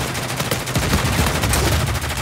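Rapid automatic gunfire from online Team Deathmatch play in the Uncharted 4 multiplayer Village map, dense and continuous bursts filling the whole stretch.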